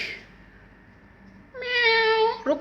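A white cat gives one clear, drawn-out meow, fairly close and loud, after a quiet stretch with a faint tonal hum and a brief earlier sound.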